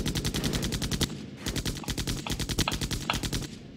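A unit firing in the Airmech video game produces rapid, loud bursts of machine-gun fire in quick rhythmic volleys, with a short pause after the first burst before the firing resumes.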